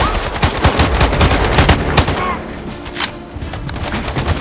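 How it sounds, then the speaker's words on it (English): Rapid gunfire from a military shooter game, dense bursts of overlapping shots and automatic fire filling the whole stretch, loud and close with a brief dip in intensity midway. "I'm listening to gunshots here!"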